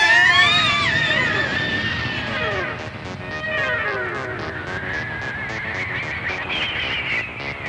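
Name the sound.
group of cartoon characters screaming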